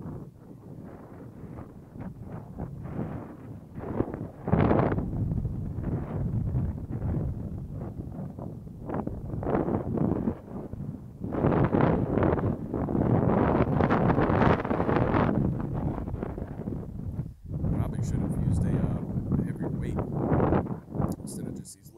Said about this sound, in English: That's a lot of wind